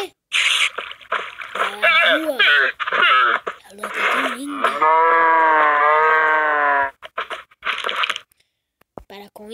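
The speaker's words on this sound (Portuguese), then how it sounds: "Para com isso, vaca." Cow moos in the Minecraft video game, several drawn-out synthetic lowing calls, one long and sustained, loud and close, with a person talking between them.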